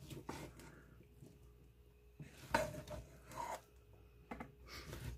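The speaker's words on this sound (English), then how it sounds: "I'm going to go ahead and give that a mix" Pea soup made with leftover Christmas ham is mixed in a pot, heard as quiet irregular scraping and rubbing strokes of a spoon against the pot, with a few louder knocks, fairly close and sparse.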